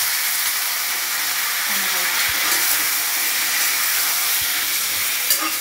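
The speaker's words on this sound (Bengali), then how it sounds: "এবার আমি এখন এগুলো একটু ভেজে নিচ্ছি" Potatoes and chickpeas fry in oil with bay leaves, making a constant broad hiss at close range with a few faint knocks, with no voices.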